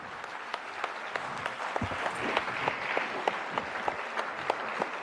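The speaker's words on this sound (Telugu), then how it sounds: "గట్టిగా కరతాళ ధ్వనులతో" A crowd applauds at a Geeta Maitri Milan gathering in Tirupati, sustained mid-distance clapping from many hands with a few louder claps standing out, no talking.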